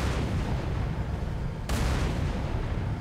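Heavy gunfire from a mounted gun turret in the Halo 3 Ark mission on Legendary: a dense, continuous roar of loud, close shooting, with a sharper blast about halfway through.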